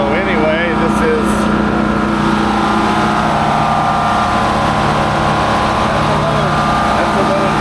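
A backup generator driven by a General Motors 4-cylinder engine runs at a steady, loud, close drone with a low rumble and mechanical whine, continuous throughout, with someone talking over it.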